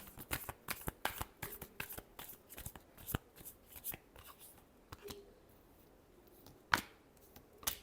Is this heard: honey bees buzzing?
no